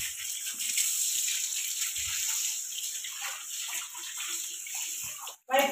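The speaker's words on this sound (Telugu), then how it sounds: "ఈరోజు మేము ఇల్లు కడుగుతున్నాం ఫ్రెండ్స్, మెట్లు కడుగుతున్నాం న్యూ ఇయర్కి." Hose water gushes and splashes steadily across house stairs being washed for the New Year, a continuous broadband hiss close by with faint voices in the background.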